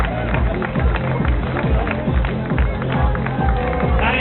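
A crowd at a half-marathon finish cheers a winning runner, and dense clapping and shouting carry through. Rhythmic footfall-like thumps sit under the noise, and voices mix in throughout.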